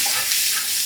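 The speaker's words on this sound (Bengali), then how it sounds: "রসুনটা একটু কড়া করে বাদামি হয়ে গেলে আমি দিয়ে দেবো পেঁয়াজ" Garlic sizzles hard in a hot pan of oil as it browns before onion is added for a prawn curry, a dense, steady, close frying hiss with faint stirring.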